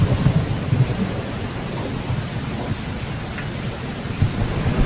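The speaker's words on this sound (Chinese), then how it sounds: "啊，下雨了！" Continuous rain hisses steadily outdoors near mountains, with low thunder rumbling softly underneath and no voices.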